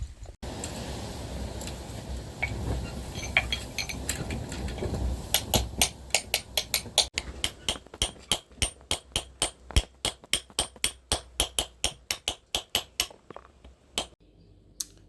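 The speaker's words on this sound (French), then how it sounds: "Donc tout au burin, au petit burin" A small chisel tapping steadily to clean a fossil, making sharp metallic ticks that start sparse and grow into a fast, regular series of close, crisp strikes.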